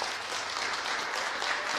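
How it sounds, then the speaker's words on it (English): Audience applause for a state senator at an education bill signing with the Black Caucus, a steady, dense clapping wash sustained throughout, fairly distant and even. "Let's give her a round of applause."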